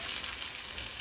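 Onions sizzle steadily in a hot pan, a dense, even frying hiss that stays close and continuous with no talking.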